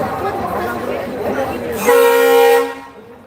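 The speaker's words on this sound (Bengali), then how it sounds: "আওয়াজ ট্রেনের আওয়াজ শুনে নিলেন" A loud, steady train horn blares for about a second near the end, cutting through rumbling background noise and voices before fading out.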